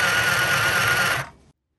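A small sewing machine stitching a scrunchie seam, one steady whirring run at high speed for over a second before it winds down and stops, close and loud with no talk.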